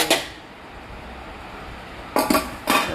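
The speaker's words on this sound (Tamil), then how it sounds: "பாத்திரத்தெலாம் இப்போ தாங்க விளக்கணும்" Metal pots and small vessels clink sharply while being washed, with one knock at the start and two more close together near the end, separated by a quiet stretch.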